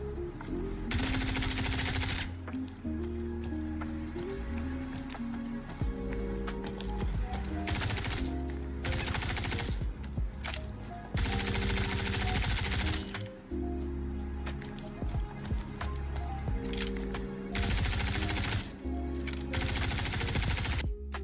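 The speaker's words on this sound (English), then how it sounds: "Now here we have the bullpup rifle that's coming." Bullpup rifle with a 40-round magazine firing in the space game Star Citizen, heard as loud, repeated bursts of rapid shots over a steady background of game music and ambience throughout.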